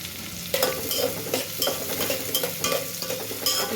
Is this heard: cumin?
yes